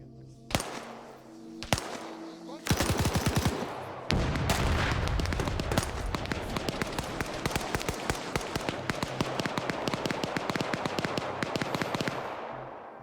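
Gunfire in a video game military mission, the Bangunan Incident: a few isolated shots, then sustained rapid bursts that grow dense and continuous, loud and close, with no talk.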